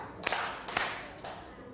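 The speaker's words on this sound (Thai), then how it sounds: "กลุ่มที่สองปรบมือสองครั้ง" A class group of students clapping in unison during a classroom concentration exercise: two crisp, loud group claps about half a second apart, then a fainter trailing clap and room ambience.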